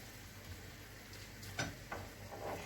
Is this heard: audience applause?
no